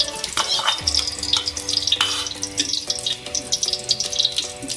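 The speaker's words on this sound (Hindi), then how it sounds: "अब मैं डालूंगी इसमें घी।" Ghee sizzling in a cooking pot for aloo matar yakhni pulao, a loud close crackle mixed with stirring and clanking utensils, a running tap also faintly audible, no one speaking.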